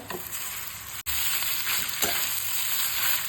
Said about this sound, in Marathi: ह्या इडल्या त्यात टाकून आपण फ्राय करायच्या।